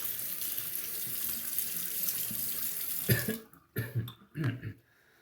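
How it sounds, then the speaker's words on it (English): Water runs steadily from a tap onto a Coticule honing stone for about three seconds, then stops abruptly, followed by a few short splashes and drips close by. "So let me wet the Coticule a bit."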